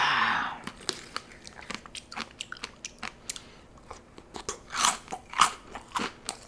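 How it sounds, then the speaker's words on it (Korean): Someone eats a strawberry-topped bingsu shaved-ice dessert from a Korean convenience store, with close, repeated crunches and chewing in an irregular rhythm and a few louder bites toward the end. "빙수로 한번 먹어보겠습니다"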